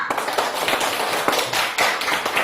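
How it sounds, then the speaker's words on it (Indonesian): Classroom applause from students at the close of a lesson, a dense run of quick overlapping claps at steady loudness with a few sharper slaps standing out. "Tepuk tangan untuk kita semua"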